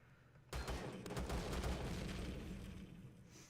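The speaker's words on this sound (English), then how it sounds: "let's soak a couple of thousand rounds of ammo into that block." Dense, continuous gunfire pours into a block in a survival video game, a rapid unbroken barrage of loud shots that begins abruptly and sustains with heavy low rumble throughout.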